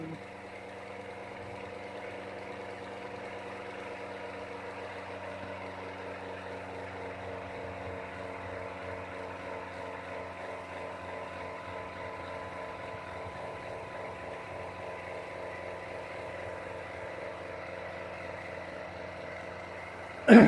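An engine runs steadily at about 5,800 RPM during a long run test, a constant droning hum with stable harmonic tones and no change in pitch for twenty seconds, ending in a brief sharp click.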